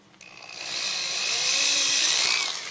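A high, steady power-tool whine builds and holds for a couple of seconds, close by, as a drill bites into a plastic servo arm.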